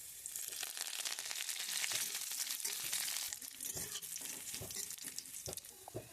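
Cumin seeds, chopped garlic and curry leaves sizzling in hot oil over a chulha while being stirred, a dense steady crackle with scraping and clattering stir strokes throughout, loud and close.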